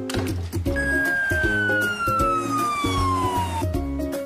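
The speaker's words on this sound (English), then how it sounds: "Ambulance." An ambulance siren sounds as one long wailing tone that slowly slides downward, loud and close, over steady rhythmic backing music.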